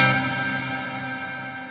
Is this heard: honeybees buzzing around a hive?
no